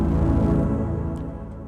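A rich Fairlight synth patch played in Cakewalk rings out alone, a big sustained harmonic tone that slowly fades, with no voices.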